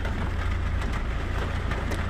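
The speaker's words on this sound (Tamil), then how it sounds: "ஒரே மழையா இருக்கு, தெரிய மாட்டேங்குது." Heavy rain from a cyclone pours steadily, a dense unbroken wash of noise with a deep low rumble beneath it, loud and close, with no talking.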